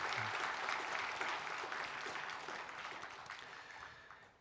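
A church congregation claps to welcome a visiting elder during a Sunday service, steady close applause from many hands that slowly fades over a few seconds.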